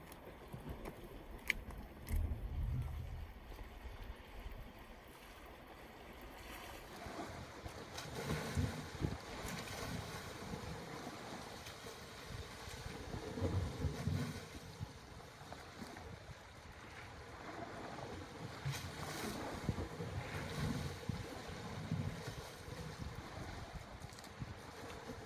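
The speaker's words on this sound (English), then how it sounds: "That wind at the moment is causing us a bit of a problem." Steady coastal wind buffets the microphone on a Guernsey shoreline during lure fishing, a continuous broadband rush with low gusty rumbles and swells, no voices over it.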